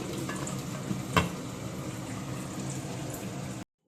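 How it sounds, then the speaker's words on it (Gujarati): Dal for dal baati simmering and bubbling in a covered pot at home, a soft continuous sizzling bubble with one brief clink partway through, then silence at the end. "દાળ એકદમ થોડી વાર ઉકળવા દઈશ"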